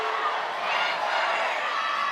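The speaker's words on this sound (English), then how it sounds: "And listen to the crowd." A crowd cheers at a women's softball game at Smith Family Stadium: a broad, steady roar of voices with scattered whoops, held at an even level for a short stretch.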